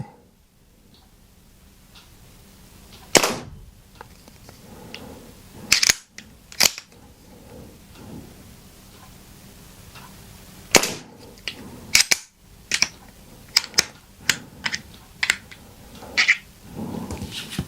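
Sharp cracks from an Artemis CP2 air pistol firing at targets during a plinking session: two or three widely spaced shots, then a quicker run of snappy reports, all close and alone with no talk.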